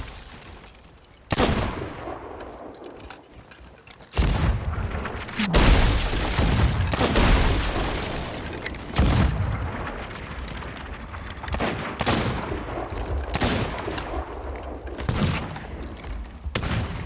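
Heavy cannon volleys boom from a ship's left-side guns during a naval battle in a video game, several loud broadside blasts landing in irregular bursts with rumbling aftermath between them.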